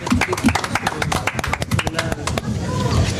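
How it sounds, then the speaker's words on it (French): Guests on a radio show recorded on a theatre terrace applaud themselves, a burst of close, brisk clapping from a few people that fades into a voice talking and background murmur. "Vous pouvez vous applaudir."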